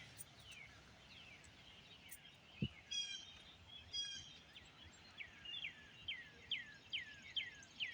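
Birds chirp in a quiet outdoor setting: a run of short, repeated high tweets at a fairly regular rhythm, moderately near, over a low background hiss.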